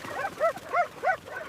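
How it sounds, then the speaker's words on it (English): African wild dogs in a pack rally give short, sharp sneezing calls, about four clipped bursts in quick irregular succession, fairly close and clear with no talk. "The dogs gather in a tight circle and begin making short, sharp sneezing sounds."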